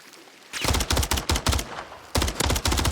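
Rapid bursts of gunfire from the Call of Duty video game in a competitive match, rattling in several tight volleys with short pauses between them, loud and close, with no talking over it.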